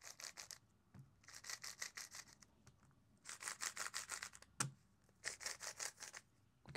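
A MoYu RS3M speed cube is turned in quick bursts of soft plastic clicking and rattling, several rapid flurries separated by brief pauses, quiet and close with no talking.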